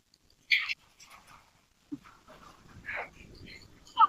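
A dog chases travellers on a forest road, giving a few short, separated barks and yelps with quiet gaps between them, moderately close, amid faint outdoor noise.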